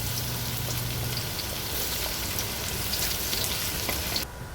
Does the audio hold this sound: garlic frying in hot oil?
yes